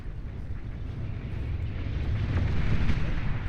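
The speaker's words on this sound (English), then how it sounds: "Follow-up bombing run." Rumbling low booms from a bombing run in the real-time strategy game Beyond All Reason, a dense continuous roar of explosions that swells louder toward the end, with no talk over it.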